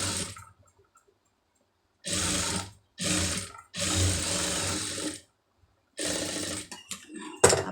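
A sewing machine stitches a seam on a hook-and-eye strip, sounding as four short, close whirring bursts of rapid needle chatter separated by silent pauses, ending with a brief clunk.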